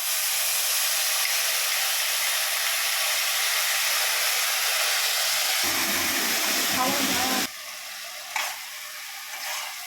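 Spice mixture sizzling loudly in hot oil in a pan while making potol dolma, a steady bright hiss that abruptly drops to a quieter crackle near the end.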